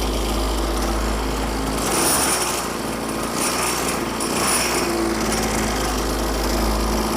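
A small petrol engine fitted to a bicycle with a homemade clutch runs with a steady, close, rattling drone, swelling briefly as the throttle is opened a couple of times.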